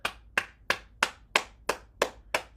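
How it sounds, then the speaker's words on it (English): Hand clapping during a bouncing exercise routine, eight crisp, close claps in an even, brisk rhythm with no talking. "And then we'll clap."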